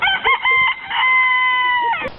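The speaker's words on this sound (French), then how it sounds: "un coq ça chante" A rooster crows one loud, close, drawn-out cock-a-doodle-doo with a stuttering start and a long sustained final note, heard alone without talk.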